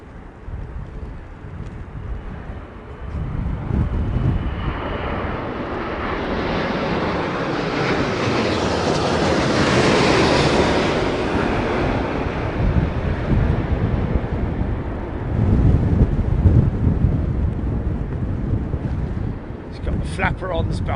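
A large airliner, an Aeromexico jet, descends to land in stormy weather, its broad roaring rumble swelling to a peak mid-clip and fading, mixed with heavy buffeting wind noise throughout.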